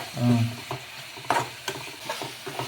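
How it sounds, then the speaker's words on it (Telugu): Tomato pieces cooking in a pan in a village kitchen, soft sizzling with a few scraping stirs and clinks of a spoon, close, after a short voice-like hum at the start. "టమాట పళ్ళు ముక్కలు వేసుకున్నాము అవి కానీ బాగా మగ్గాలి కదా"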